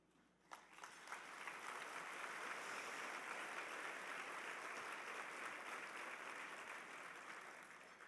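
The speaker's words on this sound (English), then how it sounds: "Your applause are for the staff" A dinner audience at the 2011 National Tribute Dinner of the United States Holocaust Memorial Museum breaks into applause after a short pause, swelling into steady, full clapping that holds loud and dense for several seconds before easing slightly at the end.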